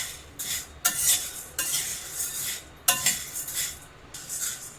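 Black peppercorns dry roasting in a pan while being stirred, giving repeated scraping, rattling sweeps of a utensil against the metal over a low background hiss, close up.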